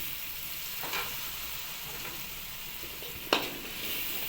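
Spice masala with a little water is stirred in a pan for chicken liver, giving a steady soft sizzle under a few faint scrapes of a spoon and one sharper clack near the end.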